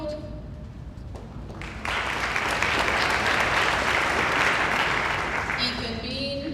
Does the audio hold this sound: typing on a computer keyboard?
no